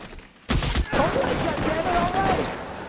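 A shotgun fires in the video game L.A. Noire: a sharp, loud blast followed by a second report, then sustained game noise and faint voices continue.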